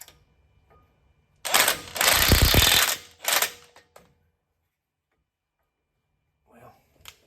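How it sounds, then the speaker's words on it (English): A ratchet turns the bolt on a MetalCloak sway bar disconnect kit installed on a Jeep, giving a dense burst of quick metallic clicks lasting about two and a half seconds, then a shorter burst, close and alone. "You just stick a screwdriver in the hole and ratchet on the other end."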